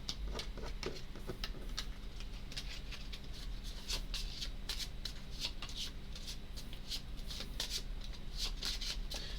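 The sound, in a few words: shuffling Arkham Horror playing cards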